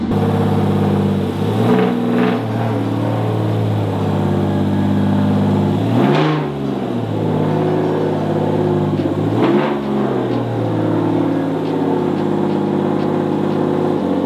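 A Subaru WRX STI with a swapped H6 engine starts up and settles into a steady idle, with two brief throttle blips partway through, recorded up close with no talking.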